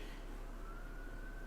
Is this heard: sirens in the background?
yes